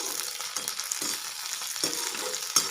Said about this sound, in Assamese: এইবাৰ মই কেৰাহীত তেল দিছোঁ, ফুলখিনি ভাজিম এতিয়া।